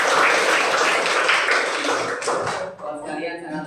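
Classroom applause, broadband clapping from a group of students, loud and close, fading slightly near the end with voices mixed in.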